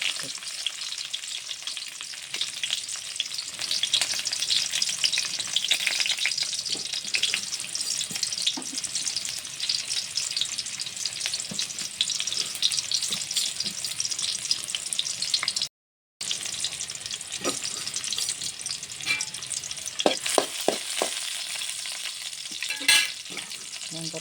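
Mustard seeds, onion, urad dal and chilli tempering in hot oil for a Malayalam papaya theeyal, a steady close sizzle with stirring scrapes and a few sharp pops, with one brief dropout midway.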